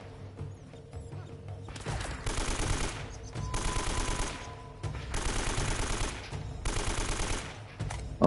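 Sustained automatic gunfire in the action video game Uncharted, heard as loud, dense bursts of rapid shots in about four long volleys separated by short pauses, with game ambience between them and no talk.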